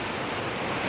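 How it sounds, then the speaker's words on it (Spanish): A creek waterfall along a short, mossy forest trail in Alaska, heard as a steady, dense rush of falling water that fills the whole clip, close and even, with no voices. "acá tenemos la cascada del arroyo Virginia"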